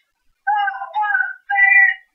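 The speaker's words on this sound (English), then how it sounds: "Excuse my phone going off like crazy" A phone's notification alert goes off in two short, clean tonal bursts close together, the second one steadier. It sounds fairly loud and close, against silence.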